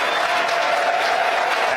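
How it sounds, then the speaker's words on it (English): Crowd cheering and applauding steadily at a SpaceX rocket launch as stage separation is confirmed, a continuous wash of clapping and voices heard from downstairs. "As you can hear from the crowd cheering downstairs"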